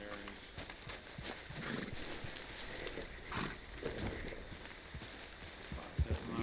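Horse hooves clip-clopping in Red Dead Redemption 2, a rhythmic patter of steps moving at a walk to trot, with someone speaking briefly over the gameplay.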